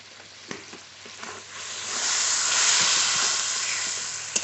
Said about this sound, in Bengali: জল দিয়ে ভালো করে কষিয়ে নেবো মশলা আর একটু তেল দেবো